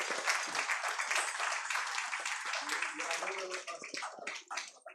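Lively applause from guests at a G20 culture gala dinner for young boys performing traditional martial arts, a full burst of clapping that thins toward the end amid voices and cheers from the crowd.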